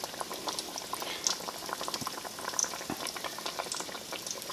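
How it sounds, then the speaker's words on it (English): A chicken wing sizzles fully submerged in hot oil in a pot, a dense, steady bubbling crackle with small pops throughout, close and even. "I'm going to do that first wing that I did. Right into the oil"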